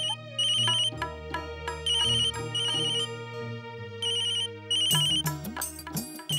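An electronic ringtone chirps in repeated bursts over a melodic backing, ringing several times with short pauses between.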